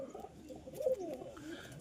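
Pigeons from a backyard loft collection, including a newly paired white hen, coo softly and steadily at close range, low rolling calls over faint background noise with no talk.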